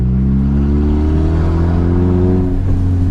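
A manual stick-shift car's engine pulls steadily in second gear, a loud, close droning hum with rising harmonics as it accelerates, alone without talk.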